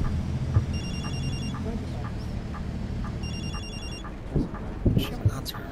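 A phone rings in a bus simulator game driving a MAN Lion's City double decker, two bursts of bright electronic trilling over engine rumble and road noise, followed by a few knocks and clunks.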